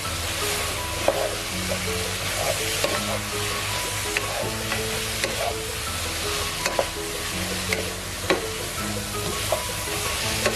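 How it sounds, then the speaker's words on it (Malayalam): Chicken thoran being stirred through in a pan, with continuous loud sizzling, frequent spatula scrapes and knocks against the pan, close up, and nobody speaking. "അപ്പൊ നമുക്ക് ഒന്നും കൂടി നല്ല പോലെ ഇളക്കിയിട്ട് യോജിപ്പിക്കാം."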